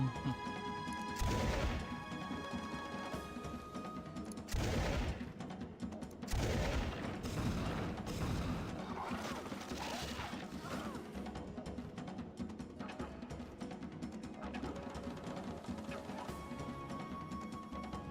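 Explosions crash through a custom-map strategy game, with several heavy bursts in the first half. Under them run clanking mechanical effects and a constant game music bed, all at moderate volume and with no speech.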